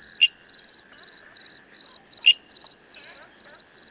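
Emerald tree frogs call from shaded leaves in a misty rain forest at Fushan Botanical Garden, giving rapid, high pulsed trills in regular repeated bursts with a few louder sharp notes, fairly close and alone.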